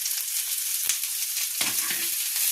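Bhetki fish fries over a medium flame with onion and garlic leaves, giving a loud, steady, close sizzle with a few stirring scrapes and no voices.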